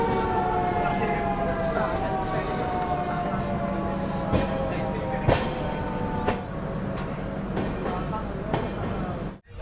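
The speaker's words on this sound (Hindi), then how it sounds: "ये हूटर की आवाज़ आ रही है" A train horn sounds at Godhra Junction on Indian Railways. It is a long, steady, tonal blast that runs close and loud for several seconds over rumbling station noise, with a few sharper clanks in the mix before it cuts off abruptly.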